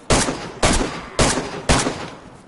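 Gunfire in the survival game DayZ: four sharp, loud shots evenly spaced about half a second apart, each with a short decaying tail, with no talk.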